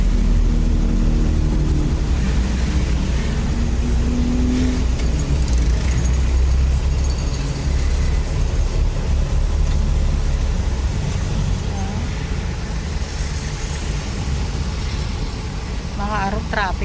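Road traffic noise on the way to Divisoria in Manila: a dense, continuous rumble of engines and passing vehicles, loud and close, with people talking over it.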